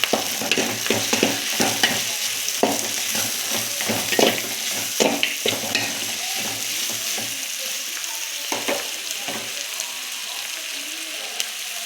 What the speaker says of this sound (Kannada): ಈಗ ತುರಿದಿಟ್ಕೊಂಡಿರ್ತಕ್ಕಂಥ ಕಾಯಿ ಸೇರಿಸ್ತಾ ಇದ್ದೀನಿ. ಮಿಕ್ಸ್ ಮಾಡ್ಕೊಳ್ಳೋಣ.